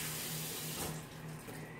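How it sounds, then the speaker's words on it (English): Tap water runs into a sink while hands are rinsed, a soft steady hiss at close range that briefly swells and then thins out, with no talking. "now I'm just going to rinse my hands quick"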